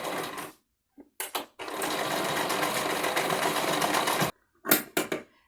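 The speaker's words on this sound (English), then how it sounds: "And then now I'm going to sew down the length of it." A sewing machine stitches Technora thread down onto a ribbon, running loudly and close in a long burst with shorter stuttering bursts before and after, separated by brief silent pauses.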